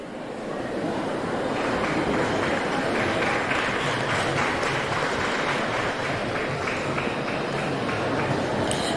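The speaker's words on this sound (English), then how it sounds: "Let's give them a big round of applause." Sustained applause from an audience at a live event as guests are invited onto the dais, a dense, steady wash of clapping heard from a distance and lasting throughout.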